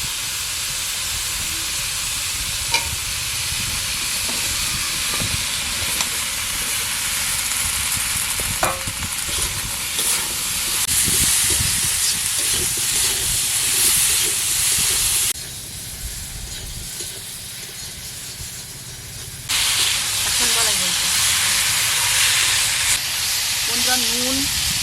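Ridge gourd and potato with salt sizzle and hiss steadily in a hot pan, with scraping stirs and clinks throughout; the sizzle drops quieter for a few seconds midway, then resumes.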